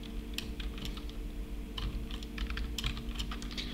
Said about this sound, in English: let's type this one here